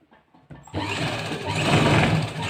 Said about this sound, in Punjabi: ਸਾਰੇ ਤੇ ਸਲਾਈ ਲਾ ਲੈਣੀ ਉੱਪਰ ਤੋਂ ਲੱਗ ਕੇ ਨੀਚੇ ਤੱਕ ਸਾਰੇ ਤੇ ਲਾਣੀ